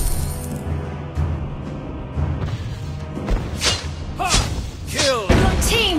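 A turret is destroyed in the video game Mobile Legends, with heavy thuds, crashing impacts and shattering bursts building toward the end over a busy game soundscape.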